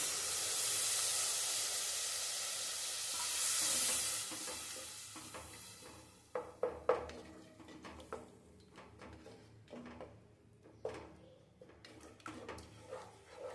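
Tamarind water pours into a hot cooking pan with a loud hiss and sizzle that fades, followed by scattered stirring clinks and bubbling.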